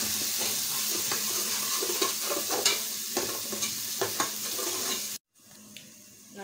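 Fresh pepper added to tomato paste frying in a pan gives a close, continuous sizzle, with scraping stir strokes and clicks over it, then a brief silence before the sizzle returns more softly.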